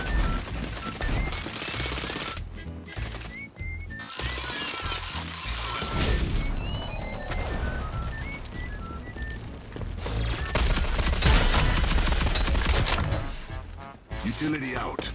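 Rapid automatic gunfire and sharp cracks in the online shooter Rogue Company, dense overlapping bursts with game effects and music throughout, with voices talking at moments.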